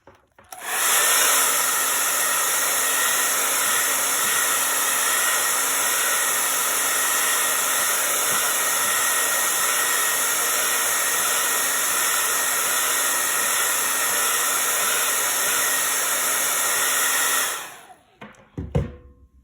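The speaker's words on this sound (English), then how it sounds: "I'm gonna let them dry, which means I'm gonna blow them dry" A hair dryer blows steadily on craft pieces to dry them, a loud constant whooshing hiss that holds for about seventeen seconds before switching off abruptly, with no talking.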